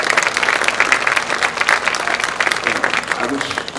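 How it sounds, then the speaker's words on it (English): A crowd at an evening awards ceremony breaks into sustained applause, dense and fairly loud, with a speaker's voice faintly mixed in. "Give a hand, a round of applause."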